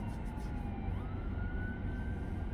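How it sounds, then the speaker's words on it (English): Faint wailing sirens in the distance, a thin rising and gliding tone over a heavy low rumble of traffic or vehicle noise. "I hear sirens"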